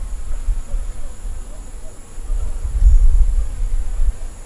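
Honey bees at a hive give a low continuous buzzing drone that swells louder near the end, heard close with steady hum in the background.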